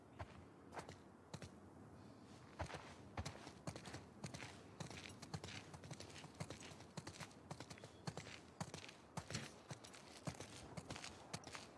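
Horses walk in The Last of Us Part II, a steady clip-clop of hooves on hard ground in a continuous uneven rhythm, fairly close and quiet, with no talk over it.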